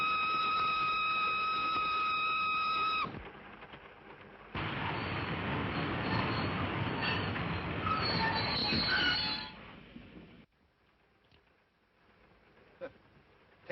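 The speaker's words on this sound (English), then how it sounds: "For heaven's sake, stop this train." A moving passenger train in a 1938 film scene: a high, steady wheel squeal gives way to loud rolling rumble and clatter, which then drops off sharply to near quiet with a faint click.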